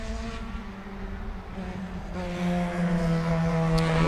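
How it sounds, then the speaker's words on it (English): Formula V open-wheel race cars pass on the Sebring track, their engines droning steadily from a distance and then swelling louder as one draws closer, with no talk over them. "can you hear the race cars?"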